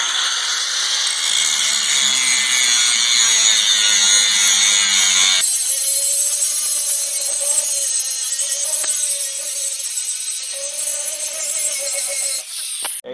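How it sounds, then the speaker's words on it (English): An angle grinder cleaning metal on a loader bucket before welding, loud and continuous, with a steady high whine that shifts pitch partway through as the disc bites harder into the steel. "Now we just have to clean it up along here with the grinder to be able to weld."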